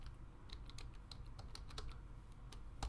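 Keys clatter on a computer keyboard as a formula is typed into an Excel spreadsheet, a quiet, close, irregular run of light clicks over a low background hum with no one speaking.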